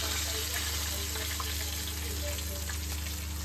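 Chicken frying in masala and oil in a home kitchen, a steady, dense sizzle with faint crackles and a constant low hum behind it, close and continuous, with no talking.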